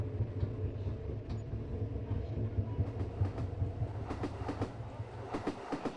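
Local train pulling out of Basirhat on the Barasat–Hasnabad line hums with a steady low drone, then a run of sharp rhythmic wheel clacks builds toward the end, close and fairly loud.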